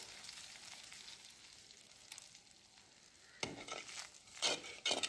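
Salted rice starch water boils in a pan for a chilli-leaf stir-fry and is stirred, giving a soft, quiet bubbling hiss that swells near the end with a few louder scrapes and light utensil clinks.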